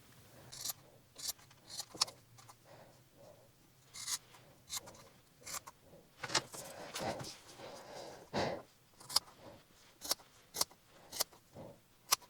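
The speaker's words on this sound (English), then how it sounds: "carve it literally with a pair of regular fabric scissors" Repeated sharp snips of regular fabric scissors trimming tufted yarn, close and irregular, with quiet pauses between clusters of cuts.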